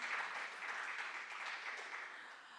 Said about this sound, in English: I give you a round of applause for that